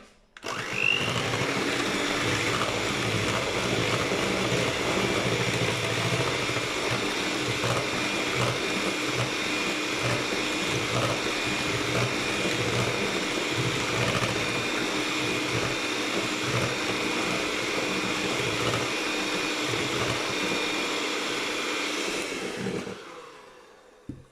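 Electric mixer whirs steadily for over twenty seconds while beating doughnut batter with yogurt, a constant close motor hum that cuts off at the end, with no talking.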